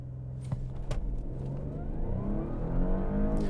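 An Audi in dynamic mode with traction control off launches in a 0 to 60 test, its engine note rising steadily in pitch and loudness after a few short clicks, heard from inside the cabin.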